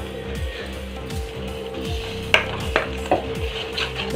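A ground paste of tomato, onion and coconut is stirred into hot oil for a fish curry. Low bubbling sizzle sits under a faint steady hum, and a spoon gives a few sharp scrapes and clinks against the pot.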